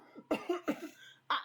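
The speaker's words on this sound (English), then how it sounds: "Looking to you as she coughs." A woman coughs three quick, close, dry times, and then a fourth rougher burst follows after a brief pause, each one sharp against near silence.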